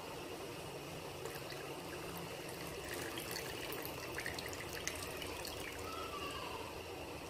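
A continuous stream of water pouring and splashing, steady and close throughout, with faint trickling detail.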